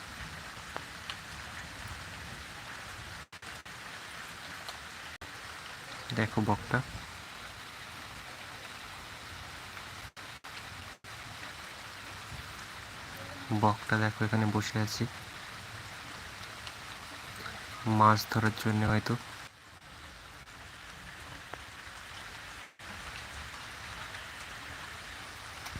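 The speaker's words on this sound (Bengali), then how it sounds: "দেখতে পাচ্ছ আমাদের এখানে বৃষ্টি হচ্ছে" Rain falls steadily outdoors over waterlogged ground, a soft continuous patter heard from a short distance, with a person speaking quietly now and then and a few brief bird-like calls.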